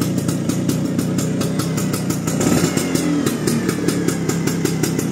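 A red 1974 Vespa Super scooter engine running steadily at idle with a close, throbbing two-stroke putter and a slight rise in revs midway, no talking.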